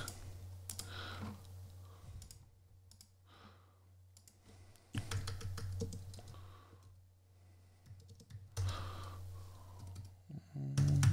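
Answers are typed on a computer keyboard in quiet, intermittent bursts of clicking keys, separated by brief pauses, with no talking.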